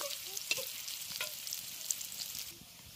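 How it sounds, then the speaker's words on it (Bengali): Onion fries in oil in a pan on a clay stove outdoors, a continuous soft sizzle broken by light clicks and stirring taps from a utensil, with no speech. "পেঁয়াজটাকে অল্প ভেজে দিয়ে দেবো বেটে রাখা সর্ষে আর লঙ্কা"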